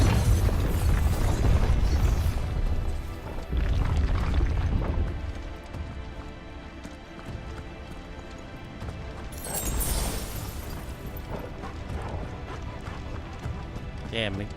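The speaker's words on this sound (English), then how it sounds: "Explosion radius damage, jeez." A heavy explosion booms in Final Fantasy 16, a loud rumbling blast at the start with crashing debris and a second burst partway through, mixed with game music and a player talking over it.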